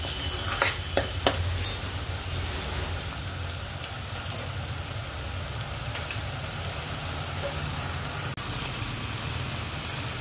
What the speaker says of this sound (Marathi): तेल सुटेपर्यंत आपला मसाला छान होऊ द्यायचा.